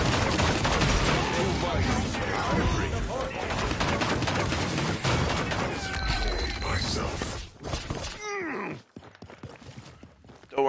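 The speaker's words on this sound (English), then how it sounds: "Enemies are firing on me." Enemy gunfire rattles in Paladins, a dense, loud barrage of rapid shots and impacts filling most of the stretch before cutting out into quieter scattered effects, with a player talking over the fighting.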